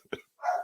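A pet dog barks indoors during a live online talk broadcast: one short, sharp bark, then a brief pause before a longer, drawn-out bark. The barks sound fairly close and stand alone, with no talk over them.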